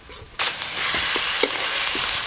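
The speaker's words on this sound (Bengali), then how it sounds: "পেঁয়াজ বাটাটা একটু লাল লাল করে ভেজে নেব" Onion paste fries in a hot pan, a steady close sizzle that bursts in suddenly and keeps hissing, with soft stirring scrapes now and then as it browns.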